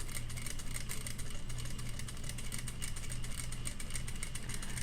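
A sewing machine stitches a curved patch pocket at steady speed, a fast, even mechanical hum and whir running throughout without talk.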